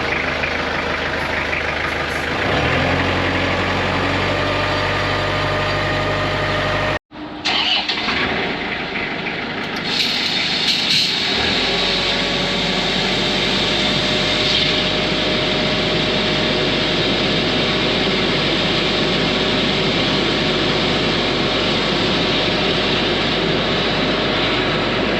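A high-pressure drain jetting machine runs loud and steady while jetting an upstream office pipe toward a pumped canteen sink. The engine drones, cuts out abruptly for a moment, then roars back with a constant hiss and rumble.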